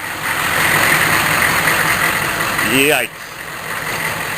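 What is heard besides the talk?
cold 6.5 turbo diesel engine idling and sputtering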